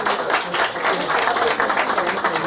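Audience at the Baguettes d'or 2015 ceremony in Paris applauding a Chinese actress, a dense, steady burst of many hands clapping throughout, fairly close with a faint murmur of voices.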